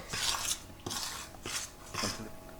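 Chakli ingredients mixed with sesame seeds in a bowl, heard as four scraping, clattering strokes of a spoon against the bowl, close and alone.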